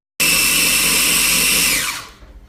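A food processor pulses half a cup of untoasted pecans into a coarse flour, a loud, close whirring burst of about two seconds that then spins down, with no one talking.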